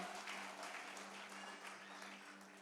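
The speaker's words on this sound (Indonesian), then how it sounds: "Beri tepuk tangan yang meriah bagi Tuhan." A church congregation at a Christmas service claps steadily throughout, a faint, dense patter of many hands heard over a low constant hum, without fading or pausing.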